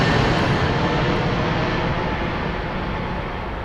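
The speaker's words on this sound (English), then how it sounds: "ATR on the horizon." An ATR turboprop airliner drones in on approach to Birmingham airport on a Wednesday evening, a loud, broad, steady propeller and engine roar that eases slightly over a few seconds, with no voices.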